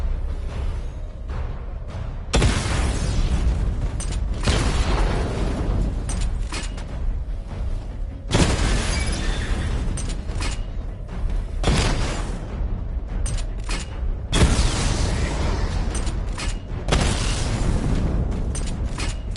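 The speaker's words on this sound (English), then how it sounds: "Charge the missile barrage to level 2 to destroy up to 4 targets at once." Missile barrage explosions in a Batman video game: a series of loud, broad blasts arriving in separate waves every few seconds, each bursting suddenly and rumbling briefly before the next volley.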